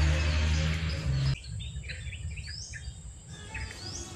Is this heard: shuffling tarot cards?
no